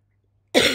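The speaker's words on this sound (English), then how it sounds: "I would edit out my coughing" One sharp, close cough bursts out after half a second of silence.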